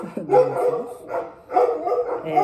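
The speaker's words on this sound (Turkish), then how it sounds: "Bu arada köpeklerin havlamasını da görüyorsunuz." Dogs bark in repeated short bursts, fairly close and loud, with yips and whimpering tones between the barks.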